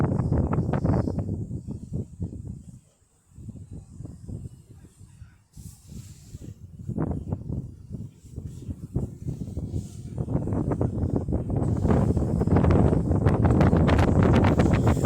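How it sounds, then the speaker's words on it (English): Strong gusty wind buffets and roars in waves, rising and falling loudly over several seconds with short lulls. "the wind's taking over, it's brutal weather, isn't it?"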